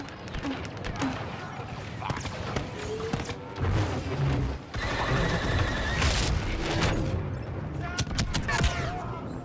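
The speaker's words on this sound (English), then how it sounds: "turret shooting me" Turret gunfire in Star Wars Battlefront 2, a dense, continuous barrage of rapid blaster shots and booms in a chaotic multiplayer battle, loud and sustained throughout with other game noise layered in.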